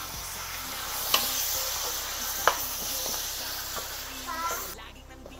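Pork ribs sizzle as they hit a pot of sautéed onion, garlic and crushed tomato for sinigang, with steady frying hiss and a couple of sharp stirring clanks, close up.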